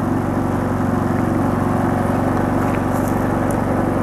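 A portable generator idles inside a sound-reducing shed, giving a steady, continuous low engine drone with a constant rumble and even loudness throughout.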